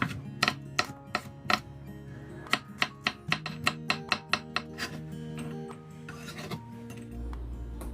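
A knife trims two red chili peppers and a hot green Cheongyang chili on a cutting board. It gives crisp taps and scraping cuts, some spaced and some in quick runs, with a low rumble entering at the very end.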